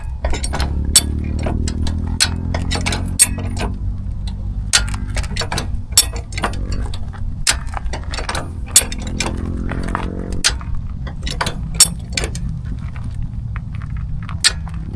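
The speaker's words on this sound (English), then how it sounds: "now we'll continue jacking this up" A multipurpose bunker farm jack is worked to lift a vehicle whose front wheels are chocked, giving a steady run of sharp metallic ratchet clicks over a low mechanical rumble, close and clear with no talking.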